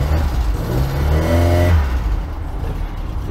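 A Sunbeam Alpine engine revs hard and rises in pitch, then drops off into a lower, quieter idle-like rumble, close and loud with slight mechanical clatter.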